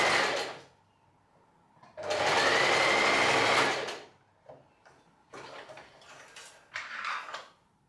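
A sewing machine stitching the short-side seam of a skirt waistband runs in two bursts, a short one at the start and a longer loud run of about two seconds, followed by quieter mechanical clicks and handling sounds.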